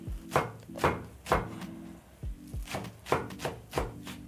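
A knife chops onion on a board for samosa filling, with steady strokes coming in two bursts separated by a short pause. The strokes are close and crisp, and no one speaks.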